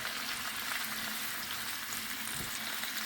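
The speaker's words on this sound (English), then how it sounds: "Going to stir this up a little bit and let these cook." Okra (bhindi) sizzles in oil in a pan for a desi-style dish, a steady, even frying hiss heard close and alone with a soft scrape of stirring.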